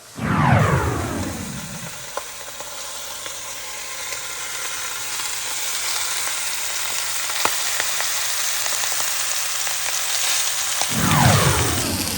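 A seasoned chuck roast browns in a Dutch oven with a loud, steady, broadband sizzle and crackle that holds unbroken for about ten seconds, with no talking.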